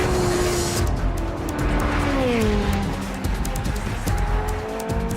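A Ferrari 430 Scuderia driven hard, its engine loud and close with rising and falling revs through gear changes and faint tyre noise underneath.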